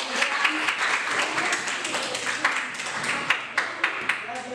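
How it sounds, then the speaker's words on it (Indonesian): Students in an Indonesian language class applaud two debate teams, a modest, uneven round of clapping with distinct sharp individual claps standing out toward the end, with some voices underneath. "Tepuk tangan buat dua kelompok"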